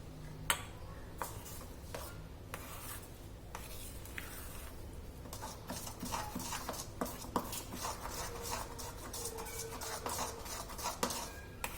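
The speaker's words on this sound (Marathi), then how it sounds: "पुन्हा एकदा छान हलवून घ्यायचं" A spoon stirs semolina cake batter in a bowl, a steady soft scraping and swishing with occasional light clinks against the bowl's side, close and without talk.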